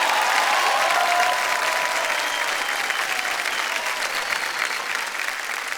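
Studio audience on a television quiz show clapping loudly and continuously for several seconds, a dense, even wash of applause that slowly fades a little toward the end.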